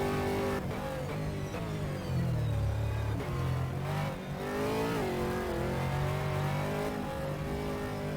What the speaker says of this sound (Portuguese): Vamos dentro do carro de José Almeida